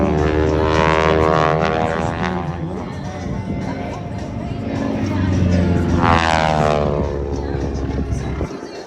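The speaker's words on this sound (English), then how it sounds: "That's a 985 cubic inch round engine airplane right there, run by Pratt & Whitney engine." A radial piston engine airplane drones loudly throughout, its pitch sweeping past twice as it flies by nearby.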